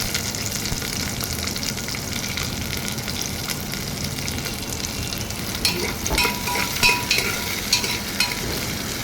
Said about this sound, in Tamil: இப்போ சின்ன வெங்காயத்தை சேர்த்து ஒரு 5லேருந்து 7 நிமிஷம் நல்லா வதக்கிடுங்க.